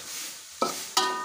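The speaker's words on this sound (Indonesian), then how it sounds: "lalu kita aduk-aduk terus biar nggak gosong ya" Sugar being stirred in a frying pan with a utensil, giving two sharp scraping strokes over a soft sizzling background, close and fairly quiet.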